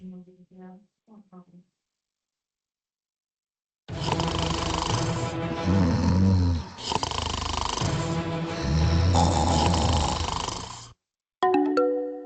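Sleeping people snore in long, loud rasping breaths, several in a row close by, after a brief bit of speech and before a short chime.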